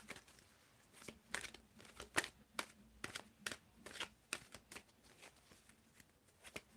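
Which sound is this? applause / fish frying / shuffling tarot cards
shuffling tarot cards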